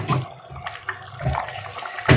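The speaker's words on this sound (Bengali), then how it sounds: "কষার সামান্য একটু পানি আমি এখানে দিয়ে দিব" A little water poured into spiced dal in a cooking pot with okra, giving soft liquid splashes and sizzle in short bursts, close by, ending with a louder hiss.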